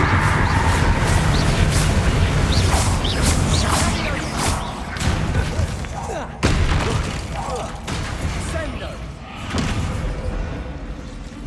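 Confringo fire spell blasts during combat in Hogwarts Legacy, with loud booming thuds and whooshing impacts over a dense rumbling battle din, one sharp hit standing out midway, and a voice heard during the fight.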